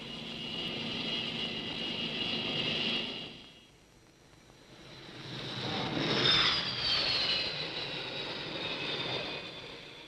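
Aircraft landing on a carrier flight deck in 1960, a loud engine roar that fades briefly, then returns with a rushing whine and swell, no talk.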